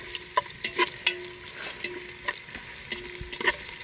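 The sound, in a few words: ginger sautéing in a pan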